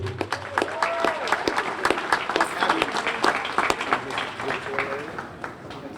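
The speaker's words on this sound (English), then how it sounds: "give a round of applause" Audience applause at a Cape Verdean flag raising ceremony, steady clapping from a modest crowd with sharp individual claps standing out, while a voice speaks over it at moderate level.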